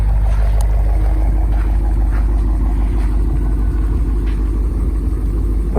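A Dodge SXT with a 5.7-litre engine idles with a deep, steady, loud rumble heard up close, unbroken for about six seconds.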